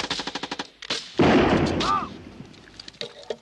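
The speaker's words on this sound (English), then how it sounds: "Small arms deal with the infantry, firing rapid until the anti-personnel mines are detonated." Rapid bursts of military small arms fire crack in a quick volley, then a loud detonating blast of anti-personnel mines roars through the woods, followed by scattered shots fading out.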